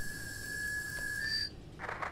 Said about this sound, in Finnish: Täällä vaan pilli viheltää aivan hulluna ja voi jeetuna vieköhön.